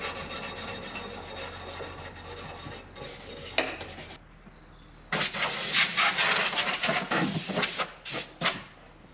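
A painted villager figure has its paint scratched off in close, raspy strokes. Steady rubbing comes first, then a short pause, then louder, choppier scraping bursts.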